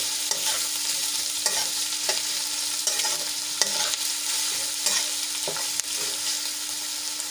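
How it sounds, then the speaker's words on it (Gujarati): Onion and potato sautéing in a pan for mung bean pulao: a steady frying hiss with repeated scraping and tapping of a spatula stirring throughout, close and fairly loud, no talking. "હવે ડુંગળી અને બટેટા આપણા થોડાક સોફ્ટ થાય ત્યાં સુધી એને સાણ તળી લેવાના છે"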